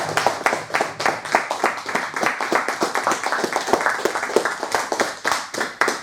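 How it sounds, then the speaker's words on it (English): A lecture audience claps for a speaker after a talk on Anglo-Saxon language and culture, a dense, lively patter of many hands close by, steady throughout with small swells and no talking. "Let's give Alex a round of applause."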